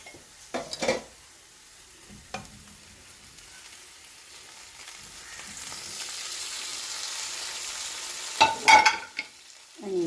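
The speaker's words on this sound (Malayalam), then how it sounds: "നമുക്കിതിലേക്ക് ഈ ചെമ്മീൻ ഇട്ട് വെക്കാം." Shrimp sizzle in hot oil in a pan for shrimp gravy, a steady soft frying hiss with a few sharp clinks of a spoon stirring against the pan near the start and end.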